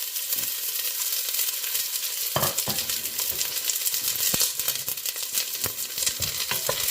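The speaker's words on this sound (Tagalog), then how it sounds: "Dahil mainit na, guys, ilagay na natin ang ating bawang at sibuyas." Garlic and onion fry in hot olive oil with a steady, close sizzle, broken by occasional sharp clinks and scrapes of a utensil against the pan.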